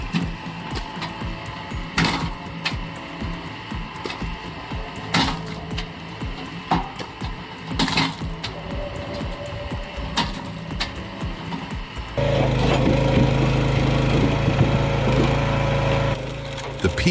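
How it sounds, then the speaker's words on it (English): Petrol-powered PME log splitter with a 16-horsepower 459 cc engine and two-stage pump, processing firewood: a steady engine drone with repeated wood splitting cracks and knocks, the engine swelling louder and busier toward the end. "The PME splitter exemplifies high-performance engineering for efficient firewood production. Powered by a 16-horsepower, 459 cubic centimeter petrol engine and a two-stage log splitter pump"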